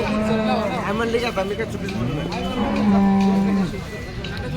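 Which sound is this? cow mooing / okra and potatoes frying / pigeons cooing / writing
cow mooing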